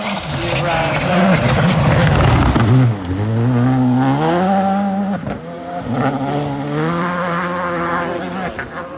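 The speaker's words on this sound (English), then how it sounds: "even the Skodas look, the R5s, the WRC2s, they're going." Rally cars, Skoda R5 and WRC2 machines at Rally GB 2019, rev and whine as they race past, their engine notes rising and falling in sweeping passes, loud and close, with some voices in the background.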